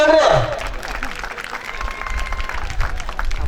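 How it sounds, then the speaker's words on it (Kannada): Applause from a village fair crowd at a wrestling and strongman stone-lifting event, a dense steady patter of clapping running throughout, with a loud burst at the start and voices mixed in. "ಚಪ್ಪಾಳೆ ಏನ್ರಿ?"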